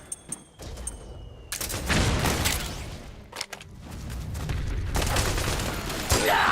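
A heavy fusillade of gunfire in Metal Gear Solid 4: a few isolated shots, then long sustained bursts of loud automatic fire with a brief gap in the middle, and no talk over it.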